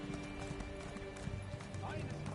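Steady hoof clip-clop from a horse in The Elder Scrolls Online, continuous under a low hum and background talk.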